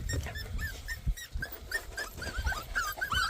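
Several dogs squabble over food close to the microphone, with rough growls, sharp yelps and whimpers erupting in uneven bursts.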